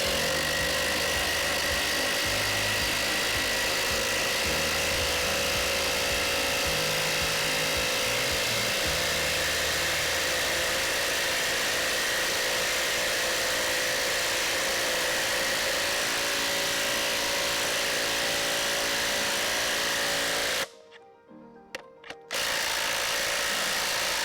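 A power tool drives a 1/2-inch lag screw without a pilot hole into a treated 6x6 post, giving a loud, steady mechanical whir and grinding hum for about twenty seconds before stopping abruptly, then a brief clatter.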